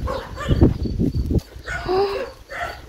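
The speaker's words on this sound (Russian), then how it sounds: "Пилот, да подожди ты, не лай" A dog barks repeatedly outdoors in a garden, a few sharp woofs followed by higher whiny yelps, with a voice talking between them.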